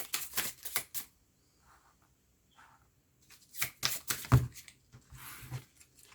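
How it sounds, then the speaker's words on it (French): Tarot cards are shuffled and drawn from a deck close up, with quick papery riffling bursts at the start and again later, separated by a quiet gap holding faint handling sounds. "On continue à prendre une autre petite carte."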